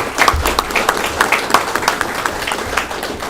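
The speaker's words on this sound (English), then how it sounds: "So if we could just give them a round of applause." Audience applause at a union general membership meeting, a moderately loud crowd clapping with distinct individual claps standing out in an uneven patter, sustained throughout.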